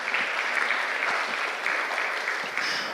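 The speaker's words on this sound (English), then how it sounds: "So let's give a round of applause for all this support ecosystem." A crowd at a healthcare conference claps steadily for a few seconds, dense and sustained applause without voices.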